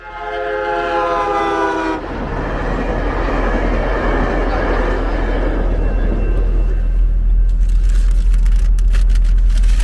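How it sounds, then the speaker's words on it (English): A car drives down a city street in Los Angeles, its steady engine and road rumble continuous and fairly loud throughout, with a passing heavy vehicle or train-like drone early on and no talk. "We're driving down this street now"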